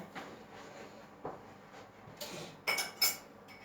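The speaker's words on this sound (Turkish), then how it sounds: "Bulaşık yıkayalım hemen." Dishes and cutlery clink and clatter in a sink, with scattered knocks and a couple of sharper metallic clinks near the end.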